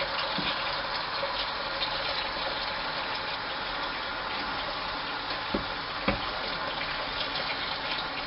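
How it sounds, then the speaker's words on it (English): Warm tap water runs steadily into a used frying pan in a kitchen sink, a constant broad hiss of flowing water with a couple of faint clinks, no talking. "Just gonna douse it with warm water."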